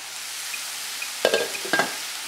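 Vegetable sauce of savoy cabbage, mushrooms and tomatoes bubbling and sizzling in a pot, with a steady low simmer and two short bursts of a spoon scraping and stirring near the end.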